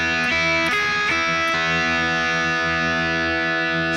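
Distorted electric guitar plays an intro riff, a quick run of picked notes and pull-offs with effects-unit grit, loud and continuous with no talking.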